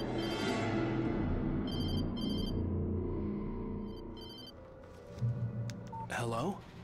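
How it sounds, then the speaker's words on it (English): A telephone rings in the video game Alan Wake, a few short repeated electronic bursts over a low rumbling ambience, followed by a rising synthetic tone near the end. "She was startled by the phone."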